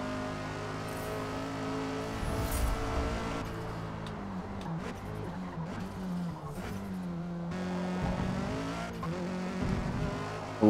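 Race cars in the video game Forza Motorsport, heavy braking with tires squealing and skidding, engine notes rising and falling under a steady mix of racing noise.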